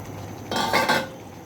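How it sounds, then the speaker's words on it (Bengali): A spoon briefly scrapes and stirs beans and potatoes in a cooking pot, giving a quick soft rasp of less than a second against a quiet kitchen background. "সিমটা দিয়ে নাড়া দিব।"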